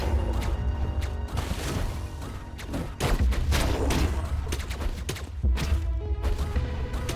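Enemy gunners firing in Hyper Light Drifter: a dense, irregular barrage of sharp shots and crashing impacts, loud and close, layered over busy game sound.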